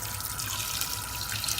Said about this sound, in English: we're going to just go ahead and pour this in